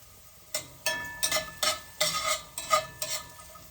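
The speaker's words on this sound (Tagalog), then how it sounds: "Dali isaute lang sa olive oil." Something is sautéed in olive oil over low heat, with a utensil scraping and stirring in distinct rhythmic strokes over a quiet, gentle sizzle.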